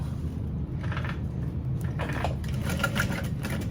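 A sewing machine stitches a handmade sling bag, its motor humming with a rapid, continuous needle rhythm in bursts, close and fairly loud.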